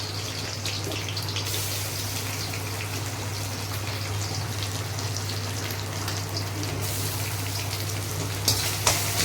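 Dry red chillies and grated coconut frying in hot oil, a dense crackling sizzle with a steady low hum beneath it, close and even, with a couple of sharper clatters near the end.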